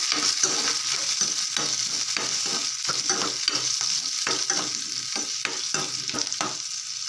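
Onions sizzle and crackle in hot oil in a pan, being stirred, with a continuous frying hiss broken by repeated scraping strokes of a spoon, close and fairly loud.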